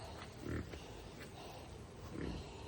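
Two low, rough pig grunts about two seconds apart over a steady outdoor background hiss.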